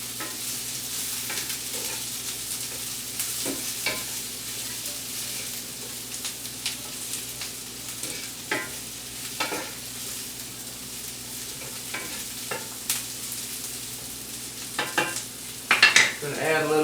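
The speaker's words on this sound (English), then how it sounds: "So all of this is going in here all at the same time. We're just going to stir it all up." Asparagus and other ingredients sizzle in a frying pan for steak while being stirred, steady frying hiss with scattered scrapes and clinks of the stirring utensil, no voices.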